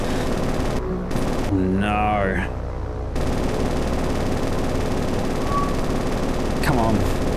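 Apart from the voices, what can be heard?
aircraft rear tail gunners firing machine guns, War on the Sea video game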